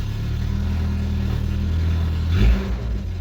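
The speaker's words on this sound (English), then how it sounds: "we're both going to find out how bad the Tacoma sounds as a straight pipe." A Toyota Tacoma with a straight pipe exhaust idles with a deep, rumbling drone up close, swelling briefly in a short rev before settling back.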